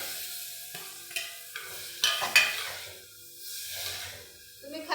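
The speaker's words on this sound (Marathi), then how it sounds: "मातीच्या भांड्यामध्ये पहा अंडा भुर्जी बनवत आहे." Egg bhurji sizzles in a clay pot as a spoon scrapes and stirs it, giving a soft steady frying hiss with a few sharper scraping strokes close by.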